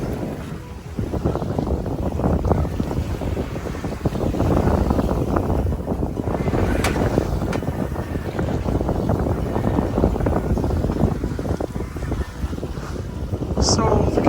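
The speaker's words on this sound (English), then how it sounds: "as predicted by Noah, the wind has started to pick up." Steady wind rushing over a sailboat on open water, a constant broadband roar with low buffeting gusts and occasional splashing, close to the microphone throughout.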